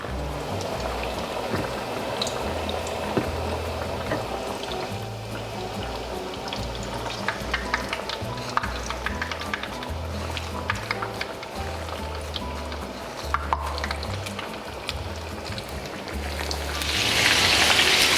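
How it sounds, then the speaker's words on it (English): Chicken breasts frying in a pan give off a steady broadband sizzle with scattered crackles and pops, continuous for the whole stretch and swelling louder near the end, with no voices. "Hear that sizzle?"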